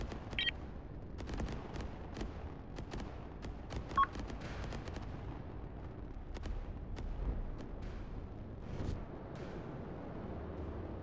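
Video-game artillery on the Tombstones map fires in sharp, scattered reports and short clustered volleys, moderately distant, with quieter gaps between shots and one brief electronic tone.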